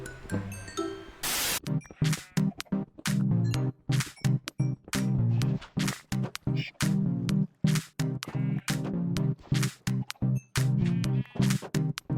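Sheep in Minecraft bleat over and over in a steady run of short, fairly loud calls, each a bright tonal blip, with no talking.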